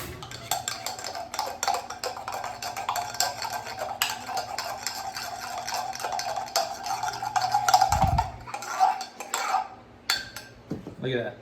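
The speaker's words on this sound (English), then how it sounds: "Let's go stir it up" A spoon clinking and scraping inside a cup while stirring a hot mocha cinnamon latte with espresso, quick repeated metallic taps and swirls, close and moderately loud.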